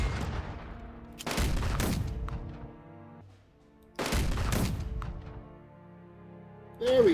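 Suppressive fire in the strategy video game Unity of Command 2 lands as two long, heavy rumbling volleys of gunfire and explosions, each decaying slowly, with a brief interface tone at the end.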